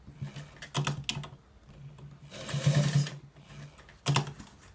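A sewing machine stitches lace into a trouser waistband in short bursts, running in quick mechanical spurts separated by pauses and light handling noises.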